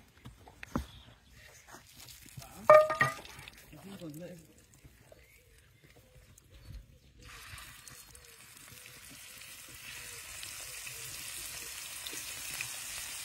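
Slices of deer backstrap hit a pan of hot oil and butter, and a steady broad sizzle of frying rises and holds for several seconds, following some kitchen clatter and someone speaking.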